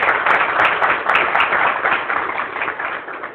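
A church congregation claps enthusiastically during a sermon, a steady dense burst of many hands applauding that fades slightly toward the end, loud and close with no talk over it.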